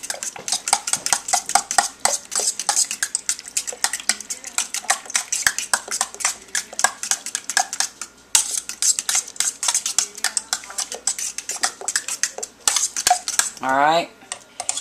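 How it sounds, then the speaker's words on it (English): A fork clinks and scrapes rapidly against a bowl while mixing yogurt ice cream, a dense run of bright metallic taps that pauses briefly and ends with a short rising scrape. "we'll once again use the fork to mix it up so that we can get it all creamy."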